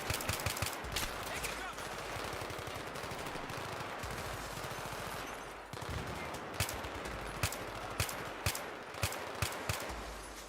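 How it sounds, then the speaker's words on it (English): Automatic and single gunfire from the video game Battlefield 3, a dense rattling burst that runs for several seconds, then a string of spaced, sharp shots, loud and close. "I'd say that Battlefield 3 was probably the first game that really took its gun sound seriously"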